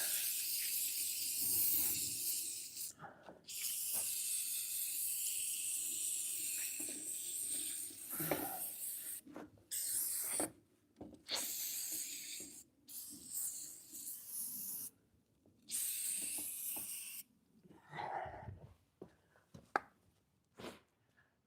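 Aerosol cleaner sprayed onto strut parts in a garage shop, heard as long close hissing bursts broken by short pauses, with several shorter spurts near the end.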